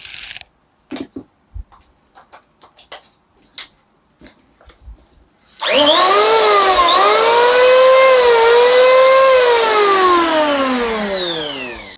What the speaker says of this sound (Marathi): वेलमॉक कंपनीचं हे रंधा मशीन आहे आणि याचा मॅक्झिमम लोड स्पीड आहे सोळा हजार आर पी एम आणि साडेसहाशे वॅटचा हा रंधा मशीन आहे